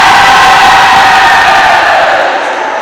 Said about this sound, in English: Luther giving their little cheer right now over under the scoreboard